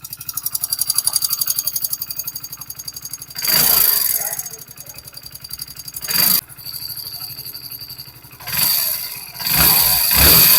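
A Hero Splendor BS6 motorcycle engine with tappet noise idles close by, with a rapid, even ticking clatter running through it, broken by several louder revs that rise and fall.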